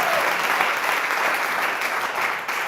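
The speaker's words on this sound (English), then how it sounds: "we've been imagining the sound of applause for a long time" Steady applause from a live studio audience at a Make-A-Wish Alaska and Washington wish night event, a dense continuous clapping wash throughout with no talk.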